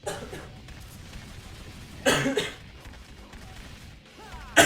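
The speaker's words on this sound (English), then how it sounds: "I'm sorry for the cough, guys." A man coughs while recording a commentary on Devil May Cry 3, with two sharp bursts, one midway and one at the end, separated by quiet background.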